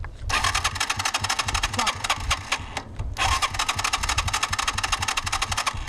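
A small motorcycle engine sputters and runs with a rapid, rattling pulse, cutting out briefly before revving back up, close by.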